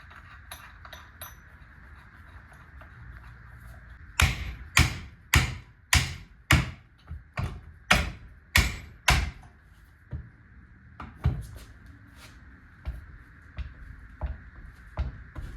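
Sharp metal hammer strikes on a part clamped in a poorly bolted vise while working on a 1982 Mercury Capri 5.0, a quick burst of about ten loud blows followed by scattered lighter taps.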